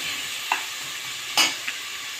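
Onions sautéing in a pan for a kuska rice dish, with a soft continuous sizzle broken by a few quick scraping stirs of a spoon, close and fairly quiet.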